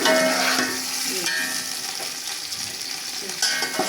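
Onions fry in oil in a pan on low heat while being stirred to brown them, giving a steady close crackling sizzle with occasional scraping stir strokes, no voices.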